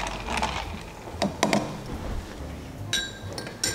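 Mocktail ingredients are stirred in a shaker with light glassy clinks and taps, a few quick ones in the middle and a brighter ringing clink near the end, heard close by.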